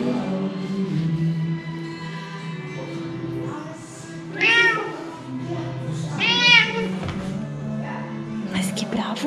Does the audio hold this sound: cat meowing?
yes